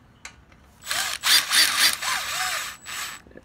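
Power tool running head bolts into a 19 hp Briggs & Stratton Intek engine during a head gasket replacement, several short, close whirring bursts that rise and fall in pitch, separated by brief pauses.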